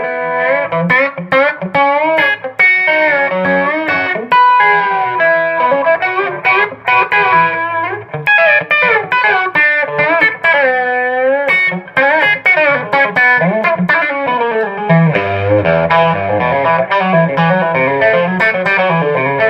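Electric guitar played through reverb and overdrive pedals in an old-school country style, a steady run of close, loud picked notes and chords with a driven, echoing tone and no talking.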